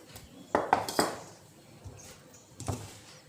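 Dishes and bowls clink as home-cooked Bengali food is served, with a few sharp ceramic knocks close by and quieter clatter between them.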